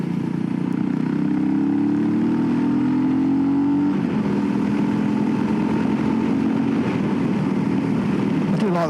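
Voge 300 Rally motorcycle ridden on country roads, a steady droning engine rasp with wind rush, holding a constant loud level throughout with the pitch rising slightly and then settling.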